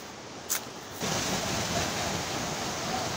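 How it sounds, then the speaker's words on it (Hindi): A natural spring stream flows under trees between mountains, rushing in a steady broadband hiss, rising slightly louder after a brief click at the start. "इन दरख्तों के नीचे से पानी बह रहा है जी।"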